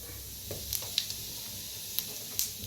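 Cumin seeds sizzle in hot oil on an iron griddle, tempering for spiced masale bhat rice. The sizzle is faint and steady, with a few sharp pops and clicks scattered through it.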